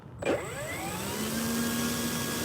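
The electric motor of an E-flite Trojan RC plane, faulty and stuck at full throttle, spins up abruptly into a steady high-pitched whine that holds loud and close, with its tone rising slightly, and no talk over it.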